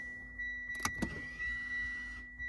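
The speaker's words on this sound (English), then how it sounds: "Handbrake off, you hear the motors going" Electric park brake motors on a jacked-up Mitsubishi with the rear wheel removed whine faintly as the handbrake releases, a brief low motor hum with a couple of soft clicks.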